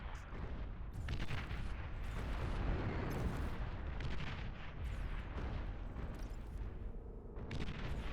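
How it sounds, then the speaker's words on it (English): Artillery cannons fire in the Beyond All Reason strategy video game, a dense, continuous barrage of deep booms and rumbling blasts that overlap with no pause. "those artillery cannons are getting a little bit annoying"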